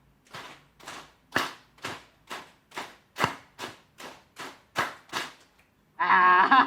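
A group of people clap together in a steady series of about a dozen crisp, closely spaced claps in a room, ending with a burst of louder noise.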